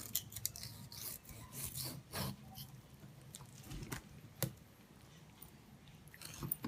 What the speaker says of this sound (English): Just take a sharp knife, find the bottom of that bone, and just cut right along.